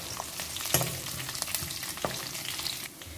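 Garlic and curry leaves fry in hot oil with a steady sizzle, punctuated by a few sharp clicks and scrapes of stirring in the pan.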